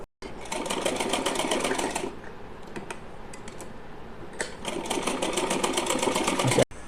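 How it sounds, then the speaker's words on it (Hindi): A sewing machine stitches pleats for a small doll dress frill, with two long runs of close, rapid mechanical whirring separated by a short pause in the middle. "यहाँ पर हमें सिलाई लगाते हुए 6 इंची में प्लेट्स बना लेंगे।"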